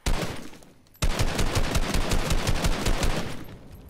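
An SMG in the Fortnite video game fires a short burst, pauses, then fires a long, rapid, loud stream of shots.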